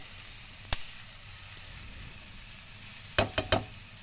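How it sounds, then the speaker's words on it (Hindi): Food roasts in a pan with a soft, even hiss, broken by one sharp tap early and a quick cluster of clicks near the end as it is moved around. "नमक कम डालूंगी। और इसे भूनूंगी।"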